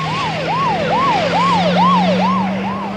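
An ambulance siren wails in a steady repeating rise-and-fall pattern, loud and close, over a constant low engine hum with no voices.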